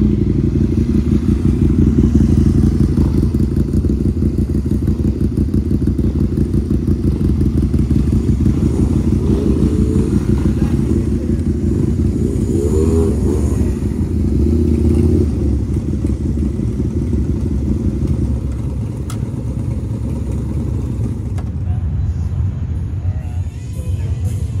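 Steady roar of several motorcycles riding together in the Distinguished Gentleman's Ride, a dense low engine rumble that holds for about twenty seconds, close and loud, before easing slightly near the end.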